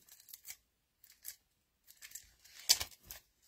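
Backing strip peeled off a confetti birthday kit, several short crinkly rips in bursts with quiet gaps between, ending in a louder tearing pull, close and alone.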